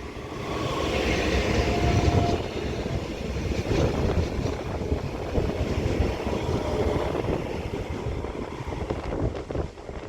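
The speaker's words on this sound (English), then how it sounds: "Now departing is going to be the 1407 Northern service to Crewe from Manchester Piccadilly" A Northern class 331 electric train departs Manchester Airport station toward Crewe, a loud, close, steady rumble with wind buffeting that eases slightly toward the end.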